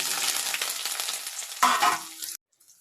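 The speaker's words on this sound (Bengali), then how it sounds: "এবার সোয়াবিনগুলো ভেজে নেব।" Soybean chunks frying and sizzling in a hot pan, a steady close crackle with stirring that flares louder near the end before cutting to quiet.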